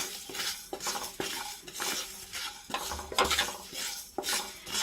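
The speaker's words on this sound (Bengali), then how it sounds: "ভাজা মশলাটা নাড়াচাড়া করে নিচ্ছি।" Panch phoron, fennel seeds and two dried chillies are dry-roasted in a wok while a metal spatula stirs them, giving close, rhythmic scraping and clinking strokes with only a faint sizzle underneath.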